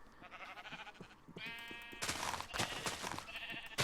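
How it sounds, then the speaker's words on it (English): Sheep in the Minecraft Infinity Evolved modpack bleat several times in quick succession, loud and close, with one longer wavering bleat midway and further bleats overlapping toward the end; no talking. "Ah, sheep! A wild sheep appeared."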